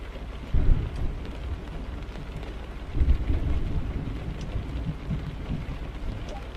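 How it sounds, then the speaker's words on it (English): Heavy rain pours onto a truck windscreen in American Truck Simulator, a constant dense hiss with low thunder rumbles swelling twice. "As you can see, the rain is too heavy and the wipers are unable to keep up with the amount of rain falling on the windscreen."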